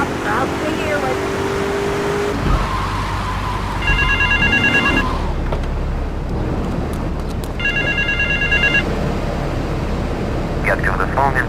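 Telephone ringing in the video game GTA III, repeated electronic ring bursts sounding over steady engine and traffic noise, with a voice speaking in the mix.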